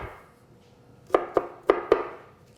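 Garlic being finely chopped on a cutting board for beef stew, four crisp knife knocks in quick succession, close and distinct, with a quiet pause before them.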